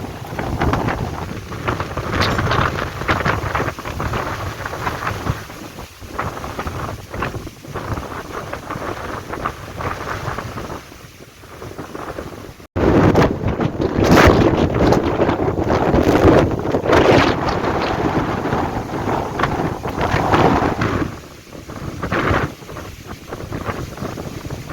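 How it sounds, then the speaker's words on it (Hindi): Strong gusting wind roars into the microphone during a stormy rainfall, loud and continuous with surges and a brief drop midway, rain hiss mixed underneath. "हवा बहुत तेज़ चलनी पई है।"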